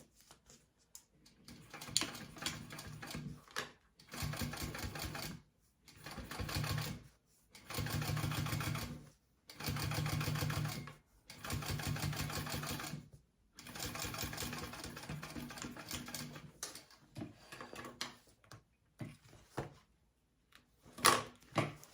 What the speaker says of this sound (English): I'm going to top stitch through this band.